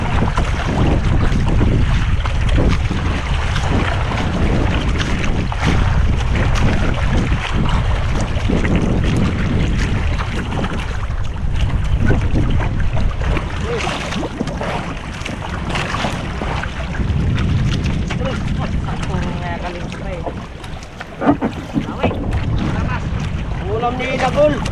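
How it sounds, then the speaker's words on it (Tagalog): Large sea waves crash and surge around a small fishing boat on open water, with steady loud wind buffeting throughout and voices calling out now and then. "Lalaki na ang alon."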